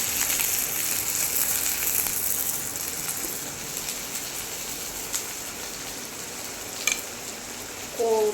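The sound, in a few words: onion and tomato frying in pan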